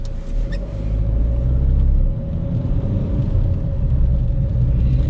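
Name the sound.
Mahindra XUV300 put in drive and accelerating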